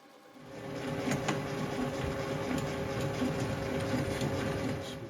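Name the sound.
boring bar cutting an engine cylinder bore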